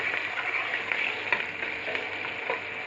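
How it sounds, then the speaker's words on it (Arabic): Julienned onion slices fry in oil toward deep browning, giving off an even, close sizzle and crackle with faint occasional stirring. "بصله انا عايزه البصله تحمر خالص معايا"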